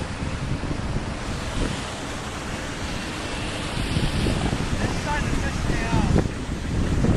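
Strong wind gusts across a lake during bass fishing, a loud, steady roar buffeting the microphone with lapping water underneath, and faint voices in the background.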